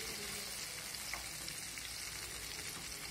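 Soya chaap deep frying in hot oil while being stirred, a dense, steady hiss of bubbling oil that fills the clip evenly at a soft level.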